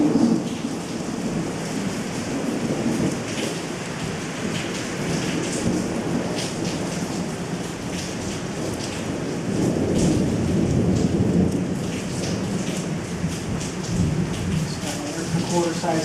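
A thunderstorm with heavy rain pours steadily throughout, while rolling thunder rumbles up and swells louder near the middle, all in a continuous, close wash of sound.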